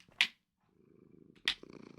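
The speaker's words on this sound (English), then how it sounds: "Loud purr." A happy cat purring loudly up close, a soft steady rumble between two sharp brief clicks or snaps, with no talking.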